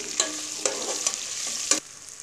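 Ginger and garlic paste frying with whole spices like cinnamon and cardamom in a pot while being stirred, a steady sizzle broken by four sharp spoon scrapes and knocks, close and fairly loud.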